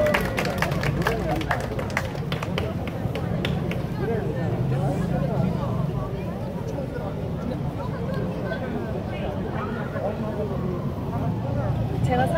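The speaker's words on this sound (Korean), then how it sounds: "박수 부탁드릴게요." Street dance busking show on Hongdae's pedestrian street in Seoul, with a crowd clapping and cheering in a dense, continuous wash of applause, loudest at the start and settling into steady clapping and murmur.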